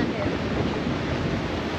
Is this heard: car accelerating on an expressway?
no